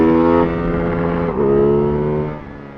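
Ducati Hypermotard 698 single-cylinder engine, loud and close, holding a steady rev, dipping briefly, then rising again before easing off at the end.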